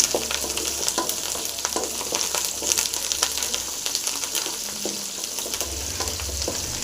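Curry leaves fry in a pan for a brinjal dish, giving a close, steady sizzle throughout with light stirring clicks and scrapes and no talking.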